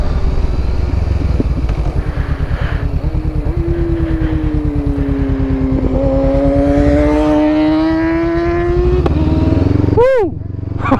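Honda CBR500 motorcycle engine droning steadily close up while riding, revs rising and holding through acceleration with a brief gear change near the end, loud and continuous under rushing wind.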